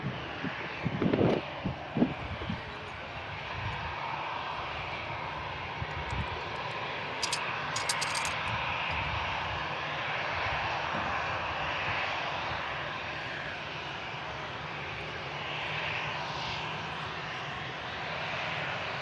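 A TUI airliner near Manchester Airport drones steadily for the whole stretch, a broad, even engine roar mixed with breezy wind noise, with no talk.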